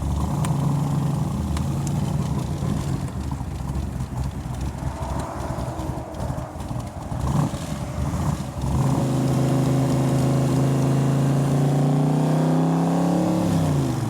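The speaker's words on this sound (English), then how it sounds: "And listen to the side pipes." A 1965 Backdraft Cobra with a Roush 427 V8 idles through side pipes, a steady, loud, close rumble that lasts throughout with a slight lift partway, no talk.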